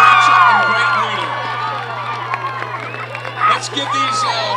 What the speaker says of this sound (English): Let's give these homecoming royalty another round of applause.